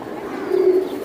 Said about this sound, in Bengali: একদম সুন্দর এক জোড়া কবুতর।